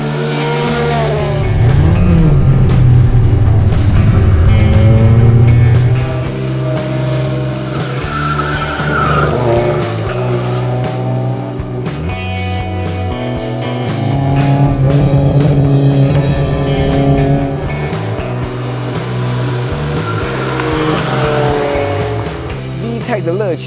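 A Honda CRX SiR with a VTEC engine is driven hard, its engine revving and surging with tire noise, rising and falling in loud waves under continuous talk.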